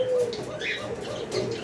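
A pair of Mili pigeons with young chicks coo in soft, repeated bursts through the short stretch, with faint background noise and no speech.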